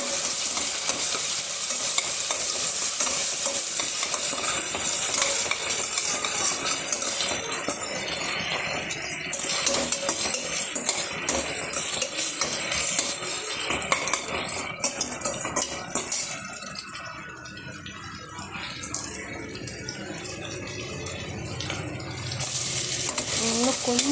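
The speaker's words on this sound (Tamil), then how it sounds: "வெங்காயம் வெந்துட்டுருக்கு." Onions frying in oil and being stirred with a utensil for mutton biryani, a dense close sizzle with scraping and clinking that runs throughout and eases slightly near the end.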